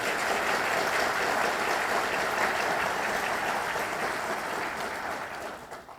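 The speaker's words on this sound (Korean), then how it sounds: "제가 당부드리는데 여러분 호응의 박수 한번 해주시기 바랍니다." An audience at a justice ministry address in Korea applauds the minister on request, a broad, even round of clapping that holds steady before tapering off at the end.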